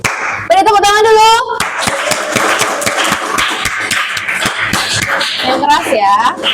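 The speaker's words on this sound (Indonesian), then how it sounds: "Beri tepuk tangan dulu." A school class claps rhythmically in a round of applause, sharp close hand claps beating steadily while children's voices shout and chatter over them.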